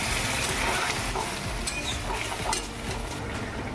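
Fish and vegetable curry broth bubbling in a pan with tengra fish and vegetables, giving a steady close sizzling, simmering hiss with faint scattered pops throughout.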